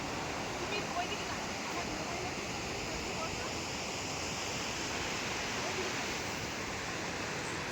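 Rishi Khola river water rushing under a dam in a mountain gorge at the Sikkim entry gateway, a steady broadband roar that never lets up across the whole stretch.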